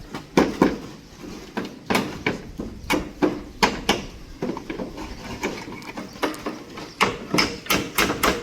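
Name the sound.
hammering while building a concrete pergola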